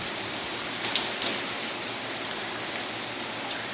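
Steady rain falls hard and close during Tropical Storm Harvey on a Tuesday morning in Mauriceville, Texas. A few louder drips land near the start, and no one speaks.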